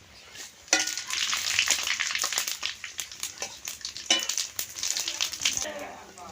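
Cumin seeds and bay leaves sizzle and crackle in hot oil for a chicken curry, a steady close frying hiss with popping and occasional stirring scrapes.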